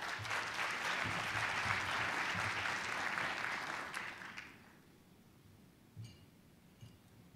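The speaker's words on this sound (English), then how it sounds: "Let's give them a round of applause." Applause from the audience at a city State of the City address in Duluth, Georgia, for contest entrants. A steady round of clapping lasts about four seconds and then fades to a quiet room with a few stray claps.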